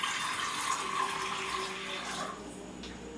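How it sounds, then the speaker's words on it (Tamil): About 200 ml of water pours steadily into a bowl in a kitchen, a continuous close splashing rush lasting a few seconds before stopping abruptly. "எடுத்து ஒரு பவுல்ல ஊத்திக்கலாம்."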